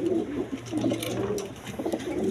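A pair of racer pigeons at a seller's loft coo in repeated low throaty rolls, close and fairly loud, with other birds and faint clatter in the background.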